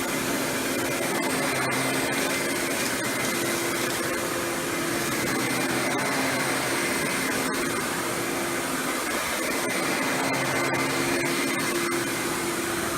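A Panasonic Performance Plus vacuum cleaner runs steadily with a loud, continuous whooshing roar and a constant motor hum, heard up close with no talking.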